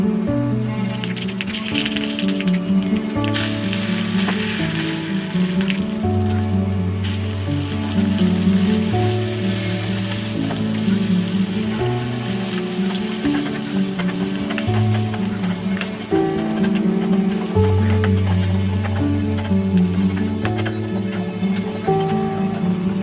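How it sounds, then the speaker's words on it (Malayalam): Mustard seeds crackle and splutter in hot coconut oil while a chicken stew is being cooked, a steady, dense sizzle that runs throughout beneath a continuous musical background. "ഈ സമയത്ത് നമുക്ക് കടുക് പൊട്ടിച്ചെടുക്കാം"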